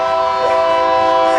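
A train heard at close range as a steady, loud rumble carrying sustained horn-like tones, continuous throughout with no clear gaps, while voices may be faintly present beneath the noise.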